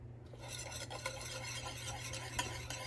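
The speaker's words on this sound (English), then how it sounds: "now we're going to slowly whisk in the olive oil" A whisk works olive oil into a Greek dressing in a bowl, making a steady, close, continuous swishing and scraping with a few brighter clicks against the bowl. No one speaks.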